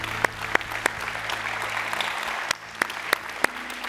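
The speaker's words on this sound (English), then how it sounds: "let's give Jesus a hand clap of praise" A church congregation applauds in praise, a dense, steady wash of hand claps filling the room, with a few sharper individual claps standing out above the crowd.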